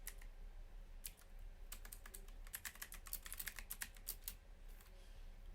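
Steady fast typing on a computer keyboard while a product description for a stainless steel Rolex is entered, dense clicky keystrokes running throughout, close and fairly quiet, with no talking.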